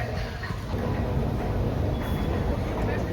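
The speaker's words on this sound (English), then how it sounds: "let's try out the train system" Ride aboard a Sydney train, with a steady low rumble of rolling stock and cabin noise filling the clip and faint voices in the background.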